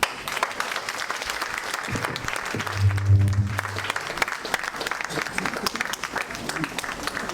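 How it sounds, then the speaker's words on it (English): An audience at a Nigerian public event claps steadily for a former leader, dense mid-distance applause running throughout, with a low hum and a brief tonal note partway through. "Now is when I will ask for another round of applause for Chief Olusegun Obasanjo"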